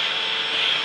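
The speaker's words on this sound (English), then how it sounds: "They like the vacuum." A household vacuum cleaner runs close by with a steady, loud broadband whir and an even drone throughout, no voices over it.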